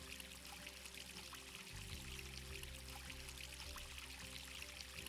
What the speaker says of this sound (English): Upside down watering can action right there.